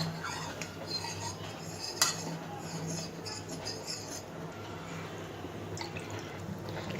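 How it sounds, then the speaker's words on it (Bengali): A spoon stirs cornflour into milk in a bowl, making soft, repeated clinks and scrapes against the sides with one sharper knock early on, close and quiet over a low background hum. "নেড়ে চেড়ে এটিকে দুধের সাথে মিশিয়ে নিতে হবে।"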